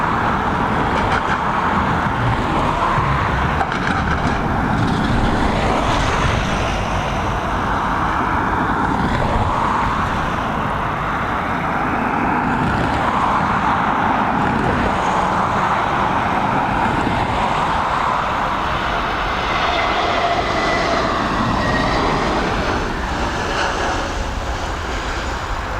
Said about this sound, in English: We've got this A321neo. She's coming in after a 6-hour and 12-minute flight from Toronto,